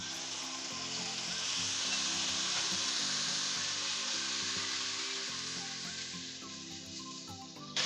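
Ground spice masala of cumin, fennel and nigella sizzling steadily in a hot pan for stuffed achari tinda, a dense, even frying hiss with light stirring scrapes throughout, close and continuous.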